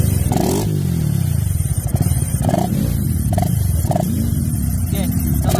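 A Honda Click scooter fitted with a 4S1M Velocity exhaust revs repeatedly, loud, close and rumbling throughout, with a voice talking over it.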